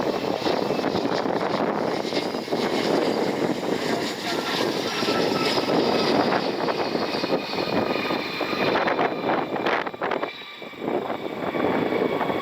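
A Dassault Falcon business jet landing at Cleveland, a steady loud engine roar filling the whole stretch with broadband rumble and whine, no talk over it.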